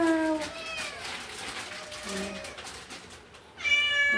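A domestic cat meows repeatedly at close range, a series of drawn-out, rising and falling cries, ending on a louder meow.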